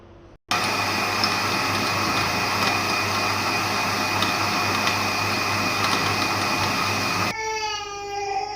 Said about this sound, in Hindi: तो अब इसे हम ग्राइंड करेंगे।